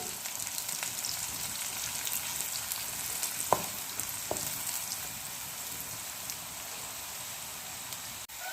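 Elephant foot yam frying in a pan with crushed skin-on garlic and curry leaves, a steady dense sizzle throughout with a couple of sharper crackles near the middle.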